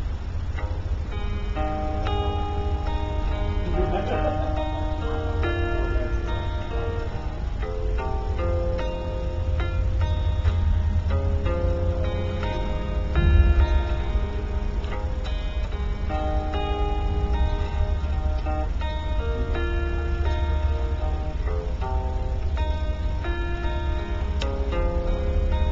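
Acoustic guitar playing a song, finger picking and strummed chords combined at a slightly slowed pace, steady and continuous throughout with no talking.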